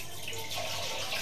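Water poured by hand for washing in a Korean latrine, a steady close splashing flow running without pause for a moment.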